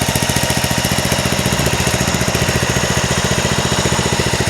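A Bobcat 36-inch walk-behind mower's small engine runs steadily close by after starting on a cold day around 40 degrees, with a loud, rapid, even chugging pulse throughout and no talk.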